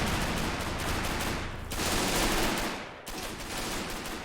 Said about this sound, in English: Look at the machine gun's got a really good rate of fire there